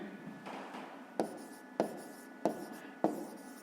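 A pen scratches across paper while a maths exercise is written out, quiet close strokes broken by four sharp taps as each word or figure ends, alone in a hushed room.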